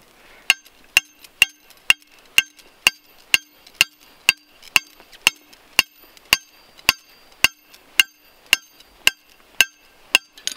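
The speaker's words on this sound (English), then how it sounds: "Just hammer it down there." Steady, evenly spaced metallic hammer strikes driving an earth anchor into the ground, about two per second, ringing sharply with nothing else around them.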